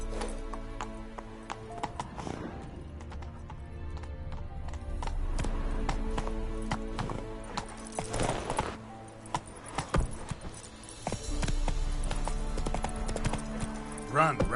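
Roach, the horse in The Witcher 3 video game, gallops with steady, rhythmic clip-clopping hooves across the whole stretch. Game sounds and some voice play underneath.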